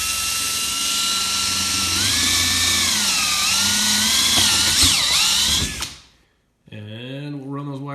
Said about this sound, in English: what we're going to do is just drill out each of those spots.